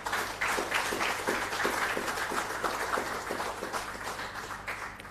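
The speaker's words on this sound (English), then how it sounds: "Let us give them a big round of applause for having accepted to take up the challenge" An audience at an education ceremony for the Seychelles Teachers Council applauds, a steady mass of clapping hands that holds throughout and eases slightly at the very end.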